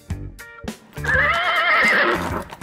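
A horse whinnies loudly for over a second, a wavering high neigh that follows a few short bumps and thuds.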